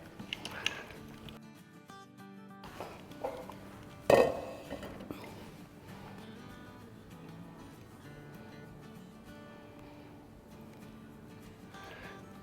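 Haleem being served from a cooking pot, with a spoon scraping and clinking against metal and one sharp clank, all under someone talking.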